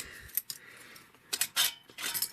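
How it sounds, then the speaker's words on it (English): A titanium spork from a camping mess kit is folded, giving several small metallic clicks and taps followed by a brief scrape, close up and quiet. "Let's fold the spork"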